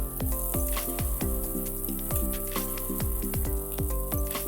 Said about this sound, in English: fry the prawns on one side, and then now we'll flip them